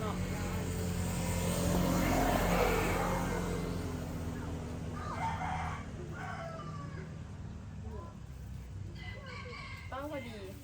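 A rooster crows in the open air amid steady background hum and a passing aircraft-like rumble, with a few short clucks and voices chatting nearby near the end.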